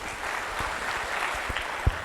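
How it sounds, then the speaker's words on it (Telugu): An audience claps steadily at a celebration event, a dense, moderately distant patter with one sharper clap near the end. "Please clap for him."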